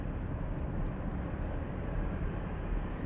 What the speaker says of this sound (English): Here we have American Airlines to Philadelphia coming this way.